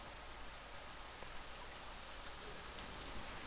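Steady rain falls with an even, soft hiss of drops on surfaces throughout, faint and continuous with no voices.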